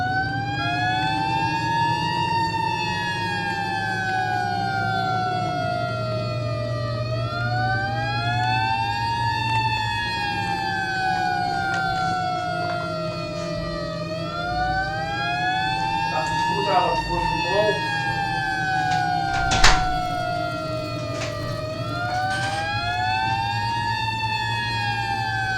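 A fire engine siren in the game Flashing Lights wails steadily, rising and falling in repeated sweeps over a low engine drone, with brief speech and clicks heard now and then.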